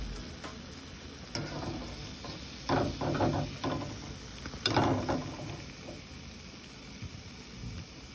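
Banana bonda frying in hot oil gives a steady close sizzle, with bursts of scraping and clattering as a utensil turns the pieces in the pan, and no voices.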